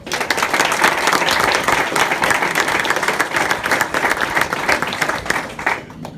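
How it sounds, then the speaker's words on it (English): Dense audience applause at a class graduation ceremony, many hands clapping in a continuous, full wash that holds steady for several seconds before tapering off at the end. "Give them a round of applause."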